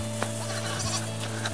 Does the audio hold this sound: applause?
no